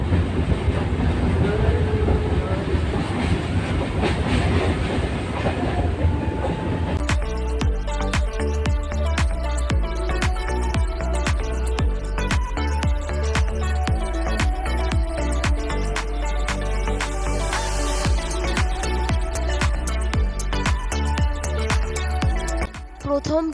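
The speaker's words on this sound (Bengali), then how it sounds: "এরপর ট্রেনে উঠে পড়েছি, তো এত ট্রেনের আওয়াজ সেখানে আমি কিছু বলতে পারিনি" Inside a moving passenger train out of Howrah station, bound for Tarapith, the carriage gives a loud, steady rumble with rhythmic clickety-clack of wheels over rail joints, continuous throughout and with no talk.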